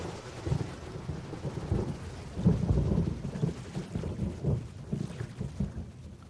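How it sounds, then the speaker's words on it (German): A thunderstorm over Lake Chiemsee brings low rumbling thunder rolling in repeated swells under a steady wash of rain, with no voices. "Bis heute sind die Gewitter am Chiemsee gefürchtet."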